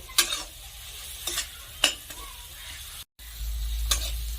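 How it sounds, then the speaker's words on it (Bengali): Spices being stirred and fried in a pan over a low gas flame, soft sizzling under several distinct scraping strokes of a spoon, with a brief cut to silence before the frying resumes. "গ্যাসের ফ্লেম লো করে দিয়ে মশলাগুলো আমি ভালো করে নেড়ে চেড়ে কষে নেব।"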